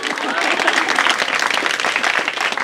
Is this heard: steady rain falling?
no